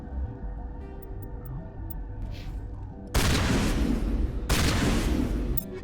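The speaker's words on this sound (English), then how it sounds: "Oh, that is such a slow firing shotgun." A slow-firing shotgun in the Mass Effect video game fires two heavy, booming blasts, the second a little over a second after the first, each followed by a long rumbling decay over a quiet background drone.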